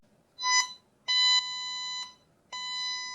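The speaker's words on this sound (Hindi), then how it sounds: "तो हेडफोन में से काफी लाउड साउंड आने लगती है और आपको पता चल जाएगा कि आपका हेडफोन कहां रखा है।" Three bright electronic find-my-device alert tones from headphones sound in short bursts with gaps between them, a loud, high, ringing beep pattern over near silence.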